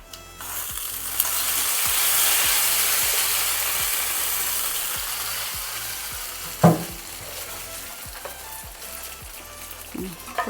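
Curry leaves and dried red chillies hit hot oil for a tempering, bursting into a loud hissing sizzle that slowly eases, with a few sharp ticks and one clear clank of a utensil.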